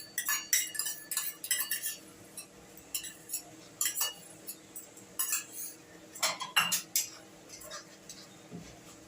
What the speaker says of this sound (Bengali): টক দইটা দিয়ে নাড়াচাড়া করে